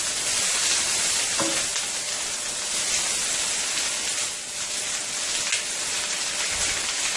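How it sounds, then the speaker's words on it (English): Onions sauté in a hot pan with a steady, loud, close sizzle that holds evenly throughout, with no voices. "let's go ahead and saute some onions"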